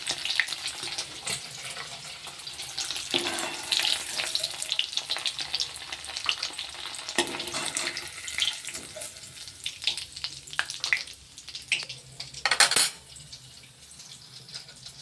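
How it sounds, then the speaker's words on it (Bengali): Paneer frying in a kadai until browned, a steady dense sizzle running the whole time with occasional stirring scrapes and a louder burst of spatter near the end; no voices. "পনিরটা অনেকটাই লাল লাল করে ভাজা হয়ে গেছে"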